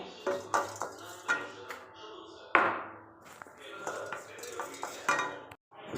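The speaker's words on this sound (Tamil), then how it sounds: "இப்போ கருவேப்பிலை, இதே ஒரு கொத்து, இதையும் வறுத்துக்கலாம்" Fenugreek seeds and a sprig of curry leaves dry-roast in a pan for sambar powder: a spoon clatters and scrapes against the metal in uneven bursts with a faint crackle, and a voice talks over it.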